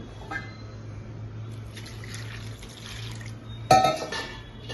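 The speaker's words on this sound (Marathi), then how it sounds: "आता या रव्यात आपण थोडं थोडं पाणी घालायचं" Water is poured a little at a time into semolina for rava kurdai, a brief liquid splash rising near the end over a steady low kitchen hum, with no talk.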